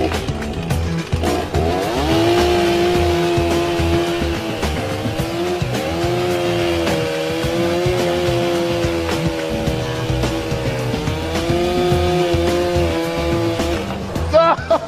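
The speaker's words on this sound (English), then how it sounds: "Here comes the abrasion saw. What they're gonna do is they're gonna cut the pipe right about here." An abrasion saw cuts through a pipe beneath a railway track, giving a loud, sustained grinding whine with a wavering pitch for the whole stretch.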